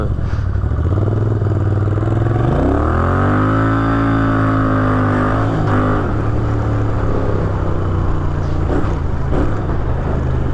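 A Moto Guzzi V7 II Racer fitted with a Frenchmonkeys exhaust rumbles loud and close while being ridden, its V-twin drone rising smoothly in pitch as it accelerates through the gears, then holding a steady cruising note.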